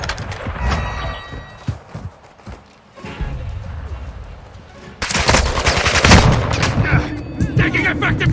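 Gunfire in a video game firefight at a hardpoint, with sharp bursts of automatic fire and single shots, sparse at first, then heavy and sustained near and loud in the second half, while radio callouts sound over it.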